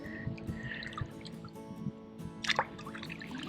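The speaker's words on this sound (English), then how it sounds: "I figured I might as well wade in the part of the water that is that's still shallow." Wading through shallow water at a beach while hunting for agates, with soft sloshing and dripping splashes at an uneven pace and a brief burst of splashing near the end, close and moderately quiet.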